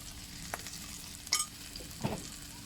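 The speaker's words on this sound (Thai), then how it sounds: "พริกจินดา ยายก็ใส่พริกจินดาแห้งไปสามเม็ดค่ะ พริกจินดาสดไปเก็บจากต้นเมื่อกี้นะคะ ผัดให้หอมนะ" Three dried Thai chilies, with fresh ones, are stir-fried in a hot pan for shrimp with holy basil, a steady soft sizzle broken by a few scraping stirs of the spatula, close up and without speech.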